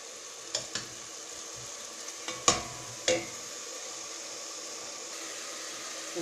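Two onions fry in three spoonfuls of oil with a quiet, continuous sizzle, while a spoon scrapes and clinks against the pan in a few sharp strokes.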